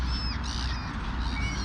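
Crows caw faintly from a terrace during an evening feeding, with a few thin calls above a steady low outdoor hum.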